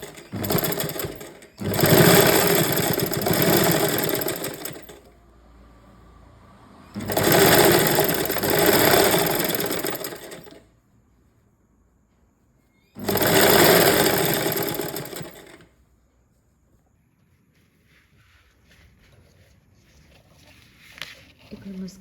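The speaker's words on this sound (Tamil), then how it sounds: "ஸோ இங்கே ஸ்ட்ரைட்டாக ஒரு ஸ்டிச் போட்டுடணும் நம்ம." A sewing machine stitches a kids' box pleat skirt in three long, loud whirring runs separated by quiet pauses, close up, with faint handling sounds in between.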